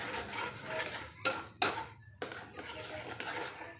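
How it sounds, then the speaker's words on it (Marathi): Utensils clink and scrape against a pan while shev bhaji gravy is stirred, with a few sharper knocks standing out over a steady background of scraping. "छान असं मिक्स करून घ्यायचं आहे."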